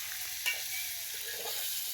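Food frying on a small mini-kitchen stove during a children's pretend-cooking game, a faint, even hiss of sizzling with one soft knock near the start.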